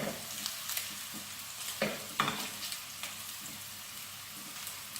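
Chicken meatballs browning in a frying pan, a quiet steady sizzle with occasional pops and a few scrapes as they are stirred.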